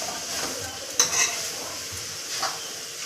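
Carrot halwa stirred with ghee in a hot pan, a steady close sizzle with a spoon scraping through it and a couple of brief clinks.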